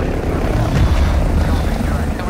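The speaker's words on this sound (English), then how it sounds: "Nice, and Ant's got the helicopter." Steady whirring rotor drone of a helicopter in a video game fills the clip, loud and close, with voices talking over it.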